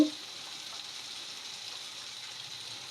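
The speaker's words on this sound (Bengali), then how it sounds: "সবগুলো দিয়ে ভেজে নেব এখন দিব কাজু" Cashews fry with tomato in a pan for butter paneer, giving a faint, even sizzling hiss that holds steady after a brief initial clack.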